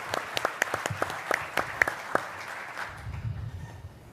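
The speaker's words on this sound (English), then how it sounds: "Let's give our moderator a round of applause." An audience at a Pacific land forces conference panel applauds the moderator. Moderate scattered clapping rises in sharp claps, then thins and fades out over a few seconds.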